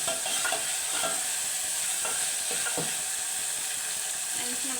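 Tomato frying in oil in a pan gives a steady, close hiss of sizzling with occasional soft stirring scrapes, continuous throughout.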